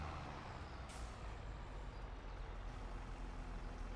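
Truck unloading in Farming Simulator 25 gives a sharp air-brake hiss near the start, then a steady low engine rumble that carries on alone with no talk.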